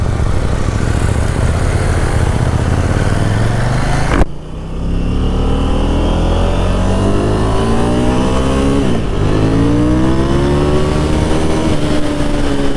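A 2021 KTM 890 Duke motorcycle accelerating hard, the engine note climbing steeply, briefly cutting out on a gear change, then winding up again through the next gear, loud and close with no talk.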